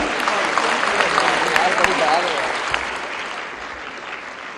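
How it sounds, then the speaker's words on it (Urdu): A large audience at a Danish School event with the Pakistani Prime Minister applauds student Tania, a loud, sustained wash of clapping that holds steady and then gently fades. "آپ کی بھرپور تالیاں لیڈیز اینڈ جینٹلمن"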